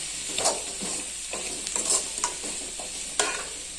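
Chicken stir-frying in a pan for rice, with steady close sizzling and scattered clicks and scrapes as the pieces are stirred and tossed.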